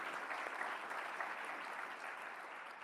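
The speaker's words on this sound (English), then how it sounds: "you can give her a round of applause" Steady audience applause fills the room, dense and even, with many hands clapping at once and no voices rising above it.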